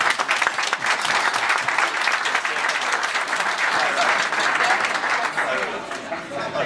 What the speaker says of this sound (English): we should give a big hand of applause for Richard and what he's done for us